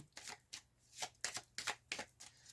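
A deck of tarot cards is shuffled and cut for a reading, a quiet close series of about seven short riffling bursts in an uneven rhythm, with no talking.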